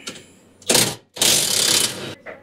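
A ratchet loosens a bolt on the Cross Fab seat lowering base of a Polaris RZR Turbo R, giving two loud bursts of rapid clicking, a short one and then a longer steady run.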